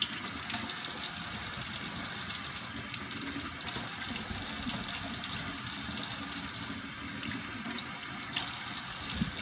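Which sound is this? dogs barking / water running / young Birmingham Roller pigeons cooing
water running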